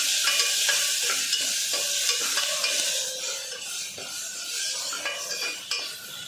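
Ginger garlic paste frying in a pan for goat leg soup, a bright continuous sizzle with rhythmic spoon scrapes stirring it, loud at first and easing slightly after a few seconds.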